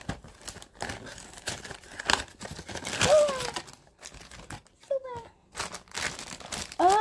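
Plastic packaging of a Star Twinkle Precure figure crinkles and tears during an unboxing, in irregular rustling bursts with a few brief sharp squeaks from handled plastic.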